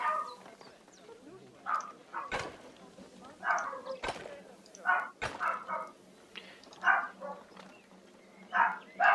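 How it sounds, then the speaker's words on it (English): A dog barks in short bursts several times, fairly close, with quieter background sounds and a few sharp knocks in between. "Sorry if you hear a dog barking"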